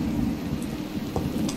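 Steady rain and a low rumble of thunder roll on in a stormy night scene in the video game Minecraft From The Fog, continuous and fairly loud with no voices.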